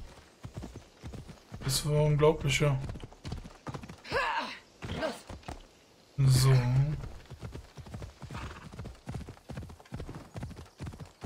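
A horse's hooves clip-clop in a steady galloping rhythm through a ride in Assassin's Creed Odyssey, with someone talking over it in two loud stretches.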